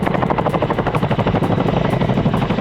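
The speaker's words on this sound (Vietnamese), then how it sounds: "Chinook đã chứng minh mình bay được ở mọi nơi, sống được ở mọi trận địa." A Chinook tandem-rotor helicopter with Honeywell T55 engines flies loud and close, its rotor blades beating a fast, continuous rhythmic chop over a deep engine roar.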